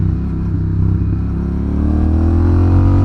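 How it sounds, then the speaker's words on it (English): A loud Honda Rebel 1100 cruiser motorcycle engine drones steadily as it slows under engine braking on overrun, a deep burbling rumble that gradually rises slightly in pitch. "the engine braking sounds great, you know? It sounds great on the overrun."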